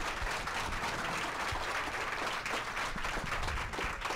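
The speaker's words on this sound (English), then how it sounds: "So give Elle a big round of applause." A crowd gives staff member Elle Hawksworth a big round of applause, dense continuous clapping filling the room at a steady level from start to finish.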